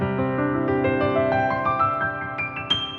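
Piano notes rolled upward one after another in a flowing arpeggio, with a bright added second ringing through the sustained chord, played alone and clearly.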